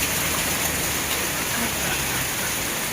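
Steady rain falls in an even, dense hiss that stays level throughout, with no single drops standing out.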